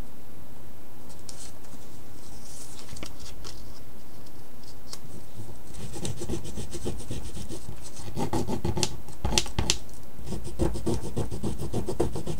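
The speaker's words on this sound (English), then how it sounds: "I'm just rubbing on some dragonflies." Dry, scratchy rubbing of dragonfly rub-on transfers onto a mixed media flower vase, heard as continuous close scraping strokes that speed up and grow denser toward the end, with no voices.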